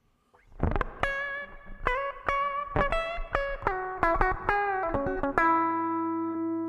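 Electric guitar notes and chords ring out with a long, spacious hall reverb tail from a Line 6 POD Express modeler, each pluck blooming and lingering into the next.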